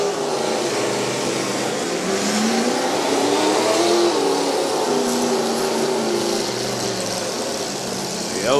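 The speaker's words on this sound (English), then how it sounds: "As Donald Pollitt tries to get that machine re-fired" A demolition derby car at the Portage County derby being re-fired and revved, its loud engine note rising and falling steadily throughout amid a noisy arena, with voices mixed in.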